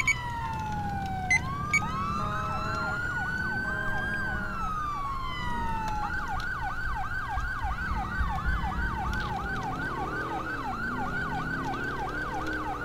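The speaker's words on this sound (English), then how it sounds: "Can you shut up with your siren, please?" Police car siren in GTA LCPDFR, set on patrol in Florida, wailing and yelping steadily and loudly close by for the whole stretch, with a rumbling vehicle engine beneath.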